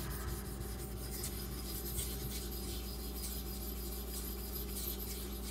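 A steel knife blade is rubbed steadily across a sharpening stone to raise a slurry, a continuous quiet gritty rasp with no pauses over a low background hum.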